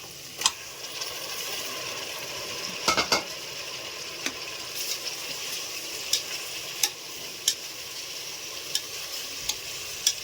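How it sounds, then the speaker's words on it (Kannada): Peas and fennel seeds fry in a little oil for a rustic tomato bath, a steady close sizzle running throughout, punctuated by occasional clinks and scrapes of a stirring spoon against the pan. "ಸ್ವಲ್ಪ ಎಣ್ಣೆಯಲ್ಲಿ ಬಟಾಣಿ, ಸ್ವಲ್ಪ ತೊಂಬೆ ಬೀಜ ಒಂದು ಸ್ವಲ್ಪ ಫ್ರೈ ಆಗಬೇಕು"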